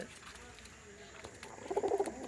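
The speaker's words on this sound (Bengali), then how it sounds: "কবুতর আছে" Soft pigeon cooing rises near the end, a few low throaty calls close by, with faint talk in the background.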